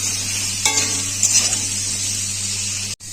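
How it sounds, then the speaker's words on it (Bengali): Vegetables and potatoes frying with salt in a pan for shukto, a steady close sizzle with a brief scrape or clink of a utensil stirring near the middle, no voices. "সব সবজিগুলো কিন্তু আমি নুন দিয়ে ভাজছি"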